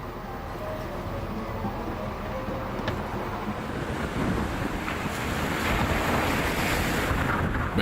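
Wind and ocean waves roar steadily aboard a sailing boat at sea, a broad continuous rush with wind buffeting the microphone that grows slightly louder toward the end, with no voices.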